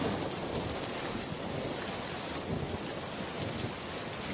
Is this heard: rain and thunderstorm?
yes